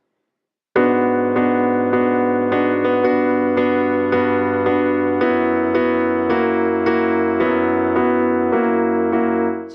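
Solo piano plays the closing bars of the verse of a song: clear, close chords struck in a steady rhythm for several seconds after a short silence, with no talking.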